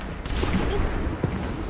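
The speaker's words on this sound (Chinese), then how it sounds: "只是乱开枪啦" Bursts of gunfire in a payload-escort online shooter game, a short scatter of shots over a low rumbling game soundtrack.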